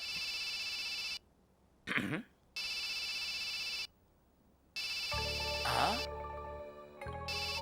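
A phone ringtone plays in repeated bursts with short silent gaps, broken by a brief vocal sound and a shift into a busier tonal tune near the end.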